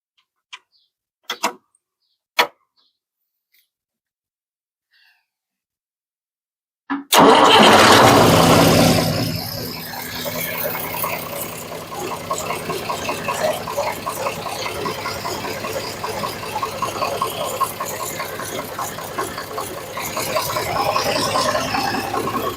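After a few faint clicks and silence, a John Deere tractor engine, just converted from 24-volt to 12-volt, cranks and catches, then settles into a steady, loud idle with a ticking rattle nearby.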